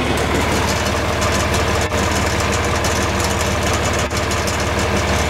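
A John Deere 4020 tractor engine runs steadily at a low rumbling idle while cultivating corn, loud and close, with a constant heavy drone and no talk.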